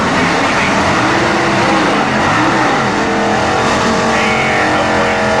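Nostalgia super stock drag race cars from a 1998 Pontiac Nationals at Norwalk roar loudly and steadily for several seconds, engines droning and rising in pitch with a dense, continuous racing rumble.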